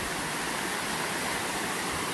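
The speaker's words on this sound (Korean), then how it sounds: "물줄기 두 개짜리 폭포" Jamryong Falls, a twin waterfall with two streams of water, roars with a dense, constant rushing wash close by. The sound stays uniform and loud, and no one speaks.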